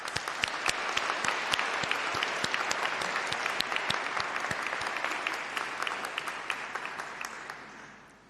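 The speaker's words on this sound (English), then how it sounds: "please let's give a round of applause and a massive cheer" A graduation ceremony audience applauds and cheers, a dense wash of clapping with many crisp individual claps, holding steady before tapering off at the end.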